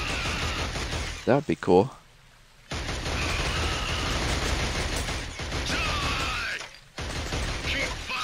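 Steady gunfire in Killzone fills a control room area, a dense sustained barrage that runs almost continuously with one brief gap, close and loud, while someone talks over it at the start.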